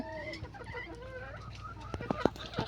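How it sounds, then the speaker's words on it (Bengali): Large native-breed hens, including naked-neck hens, cluck and murmur in drawn-out, rising calls nearby, followed by a few sharp louder clucks near the end. "ওই যে দেখেন গলাশিলা মুরগি আছে"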